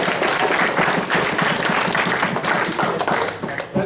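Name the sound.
audience applause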